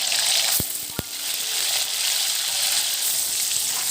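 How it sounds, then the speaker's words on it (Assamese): Paneer pieces fry in hot refined oil in a wok, giving a steady, loud hiss of sizzling throughout, with two sharp clicks or taps near the start. "তেল গৰম আছে, পনীৰখিনি অলপকৈ ভাজি লওঁ।"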